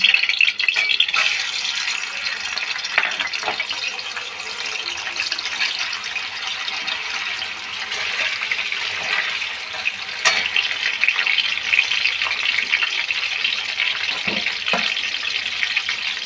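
Paneer pieces fry in white cooking oil for a mixed-vegetable paneer dish, giving a continuous bright sizzling hiss with occasional sharper pops, moderately close and steady throughout.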